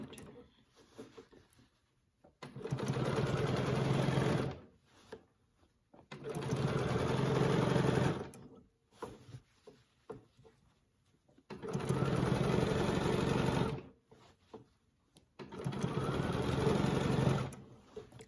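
A sewing machine runs in four long bursts of steady rapid stitching during free-motion quilting with a ruler, with short pauses between the runs.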